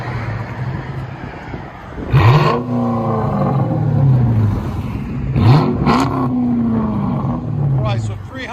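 A Chrysler 300 with a 5.7L HEMI V8 and Dynomax exhaust revs hard twice, each pull rising to a roar and falling off, with the engine idling steadily between the runs.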